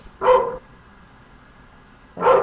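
A dog gives two sharp, fairly close barks about two seconds apart, with quiet room ambience in between.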